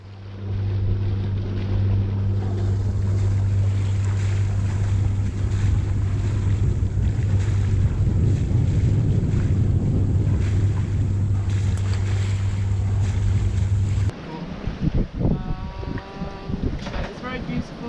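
A sailboat moves over a calm sea off Scotland in a cold northerly wind, with steady wind rush and low engine-like drone filling most of the clip, then softer water sounds and brief chirping near the end.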